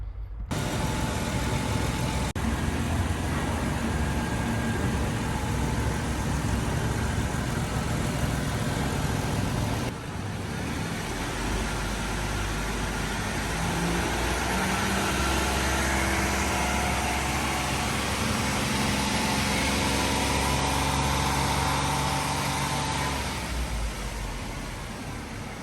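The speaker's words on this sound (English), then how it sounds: "what he's doing is revving the engine" A Jeep JK 4X4 engine runs loudly and steadily, rising and falling as it is revved and idled, with a broad rumbling drone throughout.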